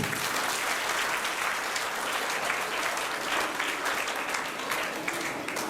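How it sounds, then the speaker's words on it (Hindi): A crowd at a school elocution and choral recitation contest claps steadily and continuously, a dense, even wash of applause with no talking over it. "इसीलिए इनके एक बार ताली होनी चाहिए"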